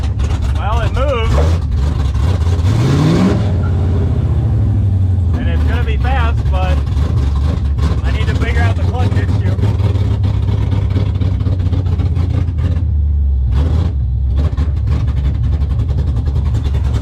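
An LS-swapped Nissan 240 with a leaking clutch master cylinder pulls away in gear, its V8 engine rumbling close and rising in one strong rev before settling to a steady idle drone, with a voice talking over it.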